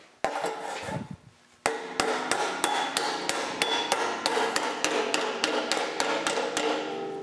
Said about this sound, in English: We don't have to take the whole piece up, we can just work it with a hammer and dolly in place.